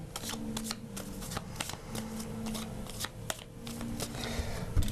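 A reproduction deck of Lenormand fortune-telling cards is shuffled by hand, giving a continuous papery riffling with sharp flicks and slaps, close and clear, with no talk.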